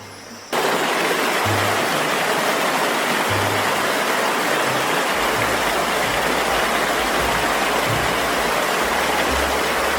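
A jungle waterfall roars as a steady, dense wash of rushing water that starts abruptly and stays loud and even throughout, with a low rumble underneath.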